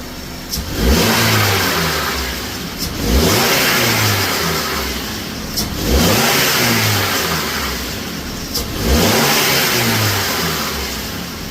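Car engine revved repeatedly in a garage, four rising blips each falling back to idle at a steady rhythm, close and loud with no talking.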